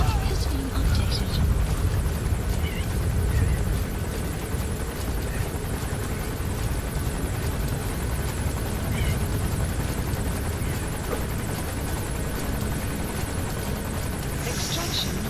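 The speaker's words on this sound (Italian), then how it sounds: "L'elicottero mi ha quasi visto." A helicopter in the video game Metal Gear Solid V: The Phantom Pain, a loud continuous rotor roar and whirring drone that holds steady throughout, with talking faintly underneath.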